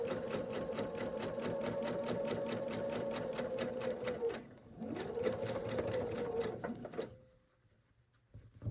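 A sewing machine stitches a seam on a quilt block in a fast, even run of needle strokes. It pauses briefly, starts again, then stops near the end.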